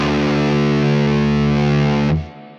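Electric guitar played through a Neural DSP virtual Mesa Boogie Mark IIC+ amp, a single sustained distorted chord ringing loud and thick for about two seconds, then cut off abruptly with a short fading tail.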